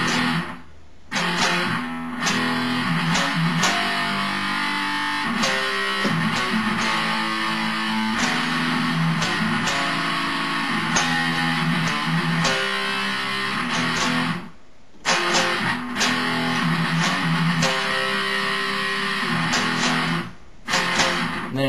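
A distorted electric guitar plays a chugging, rhythmic riff loudly on its own, with brief pauses between repeated phrases.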